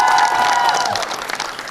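Audience clapping at a live comedy talk show, a short burst of loud applause with some crowd noise.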